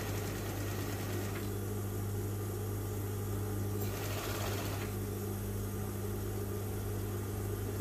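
A sewing machine stitches a shirt collar, its motor humming steadily with a brief pause partway through before running again, close and moderately loud with no talking.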